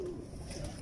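Show-quality pigeons kept by a Lahore pigeon fancier, cooing close by in a low, steady, throaty murmur that rolls on continuously without pause.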